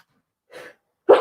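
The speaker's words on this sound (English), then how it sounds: "I'm going to sneeze." A single close sneeze: a soft breathy intake followed by a sharp, loud burst, with nothing else around it.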